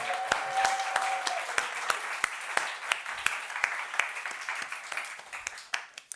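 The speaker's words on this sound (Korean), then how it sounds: "하나님께 3초간 영광의 박수를 올려드리겠습니다." Congregation applause during a Korean church sermon, a burst of hand clapping from a hall full of worshippers, steady and dense with sharp individual claps standing out, fading out after several seconds.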